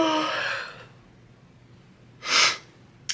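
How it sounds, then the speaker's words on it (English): A person yawns with a breathy, drawn-out exhale close to the microphone, then a short, sharp breath follows after a pause. "I have to yawn."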